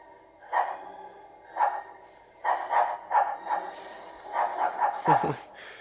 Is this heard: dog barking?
yes